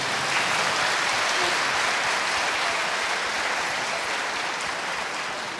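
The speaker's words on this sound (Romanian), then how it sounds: "Hai, aplaudați-vă!" Dense, sustained applause from a crowd at a tenth-anniversary concert in Bucharest, loud and even throughout with no voices on top, easing slightly toward the end.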